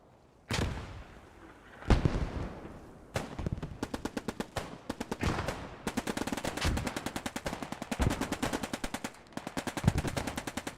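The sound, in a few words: Enfield, Sten gun and grenade battle fire, Post Scriptum video game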